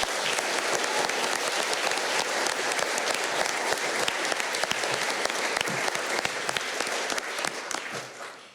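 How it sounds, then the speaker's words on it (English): A school prize-giving audience gives the senior student leadership team a big round of applause, dense and loud throughout before tapering off at the end. "can we please just have one last final huge round of applause for the Senior Student Leadership Team"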